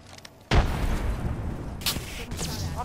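A frag grenade detonates in a video game firefight with a sudden loud, close boom. A rumbling tail follows, and a second sharp pop breaks through shortly after.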